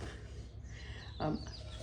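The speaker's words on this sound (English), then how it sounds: "Can you hear the birds?" Chickens cluck faintly outdoors on a Michigan farm, with one brief louder cluck standing out above a steady low background.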